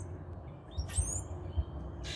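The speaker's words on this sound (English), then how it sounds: "Birds are tearing up them feeders I filled up earlier." Wild birds visiting backyard feeders in Georgia give a few faint, scattered chirps over a low outdoor rumble, with a brief rustle near the end.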